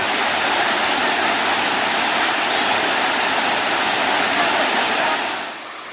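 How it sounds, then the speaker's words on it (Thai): A steady, loud rush of a hot-spring waterfall pouring into a cool stream in Krabi, Thailand, constant and full throughout, easing slightly at the very end. "กระแสน้ำตก ร้อนที่ลงมาสัมผัสกับคลองนะฮะ"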